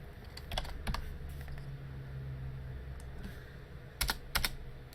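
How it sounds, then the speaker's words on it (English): Rapid typing on a computer keyboard, with clusters of quick, light key clicks and short pauses between bursts, heard up close over faint room hum. "And here comes the most typing."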